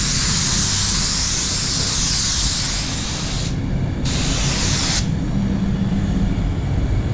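An Iwata Supernova spray gun at full fan sprays clear coat with a loud, steady hiss up close. The hiss briefly thins twice, then carries on unbroken.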